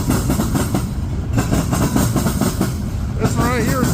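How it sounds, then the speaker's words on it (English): A Pacific freight train with a DPU rolls past close by near Mortimer, a loud steady rumble with rhythmic wheel clatter on the rails, and a voice can be heard briefly toward the end. "I was just trying to get a good view of that DPU as it's going south"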